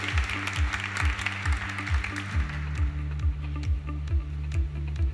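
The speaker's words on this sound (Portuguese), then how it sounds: "Uma salva de palmas" An audience applauds presenters on stage at a launch event, quick clapping that fades after about two seconds while a steady rhythmic electronic beat keeps pulsing loudly underneath.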